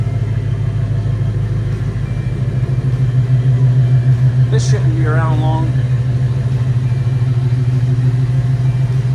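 A hugger orange 1969 Chevrolet El Camino V8 runs with a steady, loud low idle rumble throughout, while someone speaks briefly over it partway through.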